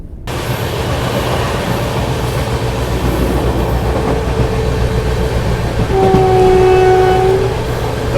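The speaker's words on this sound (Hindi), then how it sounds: "तो फिलहाल अपनी राजधानी स्किप करिए रायबरेली जंक्शन स्टेशन को" Interior rumble of the Dibrugarh Rajdhani Express as it runs through Raebareli Junction without stopping, a steady loud roar of wheels on rails, with a horn sounding near the end.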